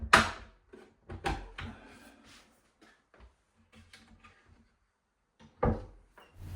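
Cabinet doors on an Art Deco style cabinet being fitted with Blum hinges: scattered wooden knocks, clicks and thuds at irregular intervals with quiet gaps between, close by and without talking.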